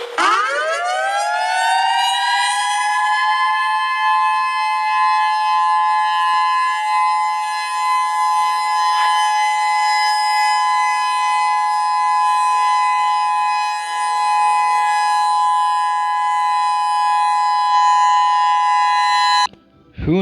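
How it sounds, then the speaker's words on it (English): An EOWS 612 civil defense siren in Ohio winds up quickly and holds a loud, steady multi-tone wail for nearly twenty seconds before cutting off abruptly, close and alone. "this here's my favorite tone of the EOWS 612 siren"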